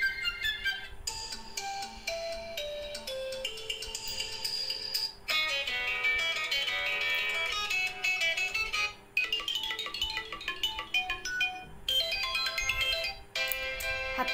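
A melodic ringtone plays from an Infinix Smart 5 phone, a bright chiming tune that repeats in phrases with short pauses, heard alone and close.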